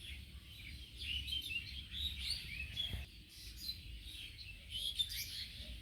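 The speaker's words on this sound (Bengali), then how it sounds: "আমি একটু চুপ থাকলাম, পাখিদের আওয়াজটা একটু শুনাইলাম।" A flock of myna birds chatters in trees at dusk beside a wetland, overlapping chirps and trills rising and falling continuously at mid distance, with no voices.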